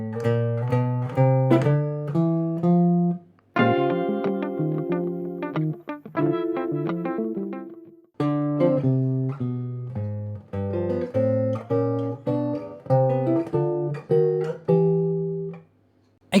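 A clean guitar plays a walking bass line alone, steady single notes stepping along at a relaxed pace with a few short pauses.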